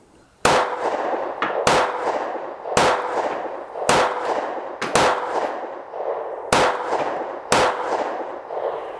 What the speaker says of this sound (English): I'm going to take 7 shots because I can count now.